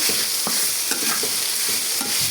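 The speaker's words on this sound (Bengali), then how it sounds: "এই জন্য খুব ভালোভাবে শাকটাকে ভেজে নিলাম।" Bottle gourd greens frying in a pan under a constant bright sizzle, with a spatula scraping through them in regular strokes roughly every half second.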